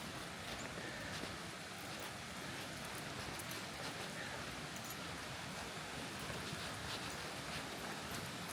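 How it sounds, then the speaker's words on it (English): Steady rain falls along a riverside bridle path, a dense even hiss of drops on the surroundings that holds without a break from start to finish, with no talking. "it starts to rain again"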